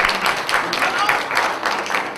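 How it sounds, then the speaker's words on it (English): Comedy show audience clapping, a steady dense wash of applause filling the room throughout, with no quiet gaps. "Clap it up if you've seen Showtime at the Apollo."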